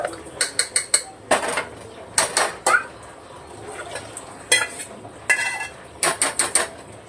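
Rice is stirred in a metal pot: quick bursts of clinking, scraping spoon strokes against the pot, grouped in rapid clusters with short quiet gaps, close and fairly loud.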